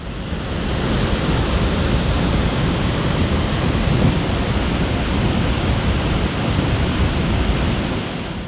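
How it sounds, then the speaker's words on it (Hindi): Water roars through the opened gates of the Sardar Sarovar dam on the Narmada River, a steady, loud, unbroken rush of falling water with no voices over it. "इस डैम से नर्मदा नदी में गिरते पानी की गर्जना सुनिए।"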